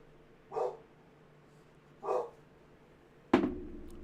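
A dog barks indoors, two separate short, moderately loud barks spaced about a second and a half apart, followed by a sharp thump near the end.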